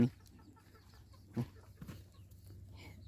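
Chickens give a few soft, scattered clucks, faint and somewhat distant against a quiet outdoor background.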